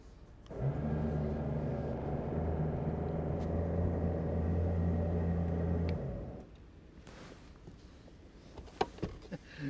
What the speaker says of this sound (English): Let's winch it again.